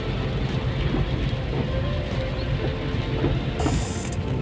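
Heavy rain pours onto a road in Alappuzha under a broad, rumbling wash of noise, with faint distant traffic mixed in. No one speaks.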